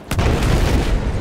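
A heavy, booming C4 explosion in Battlefield 4 bursts close and loud, then rumbles on with a dense low roar.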